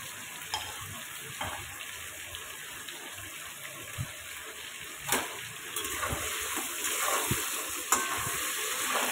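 Sea crabs fry in a pan, giving a steady, close sizzle with occasional stirring scrapes and soft pops, fairly quiet and with no talk.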